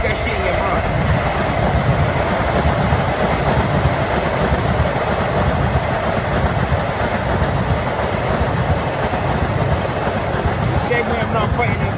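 A train passes close by with a loud, steady, continuous rumble and rattle that stays constant throughout, while someone talks over it.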